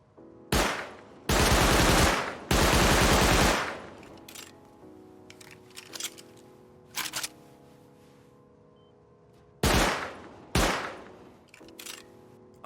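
Custom SMG fire in the console version of the video game Rust: loud automatic bursts, two long sustained strings early on, then shorter volleys with quiet clicks and rustles between and no speech.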